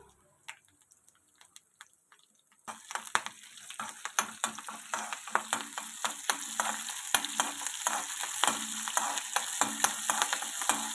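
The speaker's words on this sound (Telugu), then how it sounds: "ఇలా ఆయిల్లో బాగా ఈ తాలింపులన్నీ కూడా వేగాలి" Curry leaves and dried red chilies fry in oil as a tempering for radish chutney. After a quiet start, a sudden loud sizzle breaks out and continues with crackling pops and stirring.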